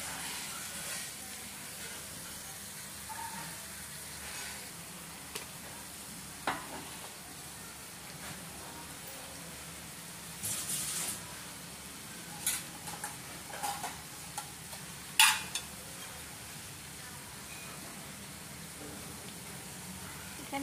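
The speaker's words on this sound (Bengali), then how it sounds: "এটা মিক্স করার পর 4 থেকে 5 মিনিট জাস্ট একটু ফুটে গেলেই" A red chilli and soy sauce for tiger prawns simmering in a pan, giving a soft steady sizzle and hiss with occasional bubbling pops and brief louder crackles, close and fairly quiet.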